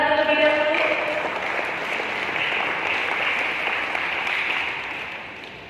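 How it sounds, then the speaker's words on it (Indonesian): Seminar audience applauds a guest speaker being invited up to the stage, a steady wash of many hands clapping that fades slightly toward the end, with faint voices underneath. "Beri tepuk tangan terlebih dahulu."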